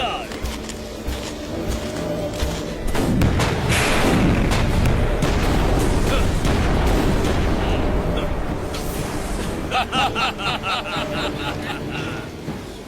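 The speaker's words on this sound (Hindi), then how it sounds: "रुक क्यों गए? और फायर करो।" Cartoon gunfire and artillery booms in a Motu Patlu animated film, heavy rumbling blasts swelling into a sustained roar, then rapid crackling shots, with character voices talking over the barrage.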